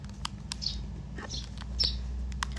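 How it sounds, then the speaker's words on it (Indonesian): Several short, high bird chirps ring out at scattered moments over a quiet outdoor village background, fairly faint and with no talking. "suara burung guys, karena ini lagi di desa gitu"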